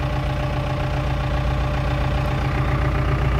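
Close by, a Ford 6610 tractor engine idles in a steady, low, throbbing diesel chug with an even knock-like pulse, unchanged and without talk.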